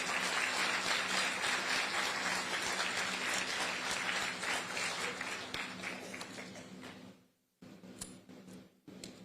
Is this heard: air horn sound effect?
no